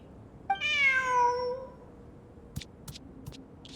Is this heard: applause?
no